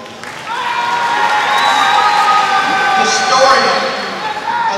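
A crowd at a recognition ceremony for student officers claps, with whoops and cheering voices mixed into the applause. The sound swells loudly and then eases off over a few seconds.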